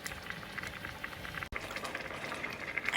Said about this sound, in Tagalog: pakuloyin lang natin para talagang mainit